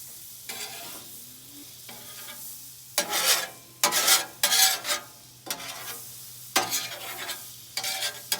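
Butter sizzling on a 22-inch Blackstone flat-top griddle while a spatula pushes it around, steady frying hiss broken by several loud scraping, stirring bursts close by.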